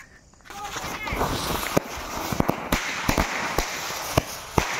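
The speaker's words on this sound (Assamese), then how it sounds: "এতিয়া আমাৰ লাষ্ট বোমা" Firecrackers set off on a Diwali night burst in a string of sharp pops and cracks over a steady hiss of crackling, some close and loud, others fainter.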